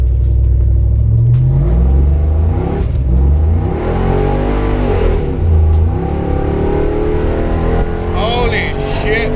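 A pickup truck with a cammed 5.3 V8 on 4.56 gears accelerates hard, its loud, close engine rising and falling through several revving sweeps with a choppy rumble, while someone talks over it inside the cab.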